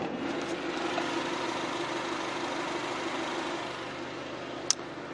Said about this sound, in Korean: 확실히 굉장히 조용하고 정숙한, SUV에서는 기대하기 힘든 엔진 소음 기대하실 수가 있는 차량입니다